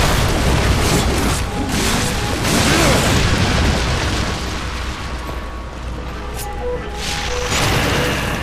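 A shadow bomb goes off in Darksiders 2, a loud, broad booming blast that rolls on for several seconds with rumbling debris and swells of noise.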